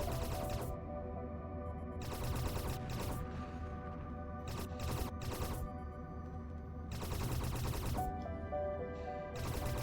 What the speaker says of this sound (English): Seems to be firing a further range with the rear point defense